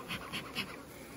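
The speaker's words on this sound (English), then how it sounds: "These bees over here are not thrilled with what I'm doing." Honey bees in an opened hive box buzz steadily during a beekeeping inspection, with a rising and falling drone close by and three brief louder swells.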